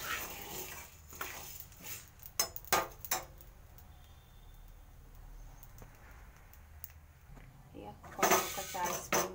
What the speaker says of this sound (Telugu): ఇగో ధనియాలు కూడా వేయించుతున్నాను చూడండి ఫ్రెండ్స్.